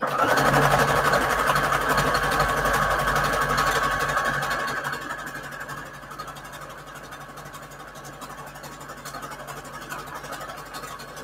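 A sewing machine stitching decorative scallop stitches on fabric, a close, steady mechanical whirr that runs continuously and is loudest at first before easing to a slightly quieter, even hum.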